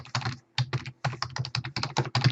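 Rapid typing on a computer keyboard, entering a file name, with a quick burst of close key clicks, a short pause, then more steady tapping, with no talk.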